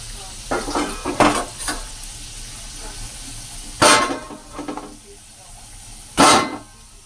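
Dough for aloo litti being tossed and slapped down by hand in a home kitchen, giving a handful of sharp, close thuds spaced irregularly over a quiet background.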